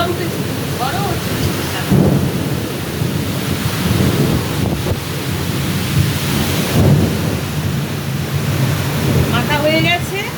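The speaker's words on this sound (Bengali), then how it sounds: "এত বাজ করছে মানে কথা শোনা যাচ্ছে না, কথা বলা যাচ্ছে না, ভয় লেগে যাচ্ছে।" Thunderstorm with heavy, continuous rain and deep rolling rumbles of thunder, loud and close, with someone speaking faintly beneath the downpour.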